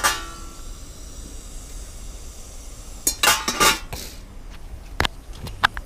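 Pots, dishes and cutlery clink and clatter during cooking, starting after a quiet stretch as a few sharp, close knocks clustered together, followed by scattered single clinks.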